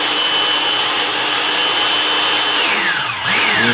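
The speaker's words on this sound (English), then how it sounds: "pop on our top and give it a puree" A blender whirs steadily at high speed, pureeing a mixture for a swirled dessert, with a loud continuous motor whine that briefly dips and changes pitch near the end.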